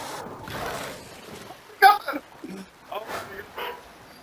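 Dog barking in the video game Far Cry 6, a few sharp close barks and yips bursting out amid game noise and excited talk.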